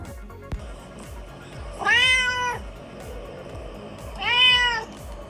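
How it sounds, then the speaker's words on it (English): A domestic cat gives two drawn-out meows, about two seconds apart, clear and close over a faint steady background. "That was a cat."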